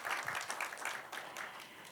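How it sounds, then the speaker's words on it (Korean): Audience applause at a live music performance, a short burst of scattered hand clapping heard faintly from a distance. "박수 한번."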